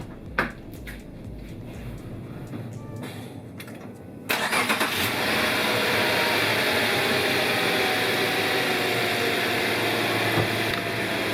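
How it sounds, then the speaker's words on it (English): A Subaru Legacy 3.6R flat-six, fresh from an oil change, cranks and catches about four seconds in, then settles into a steady, close idle that runs on evenly with no voices. "we're gonna fire this thing up and let it run for a couple minutes"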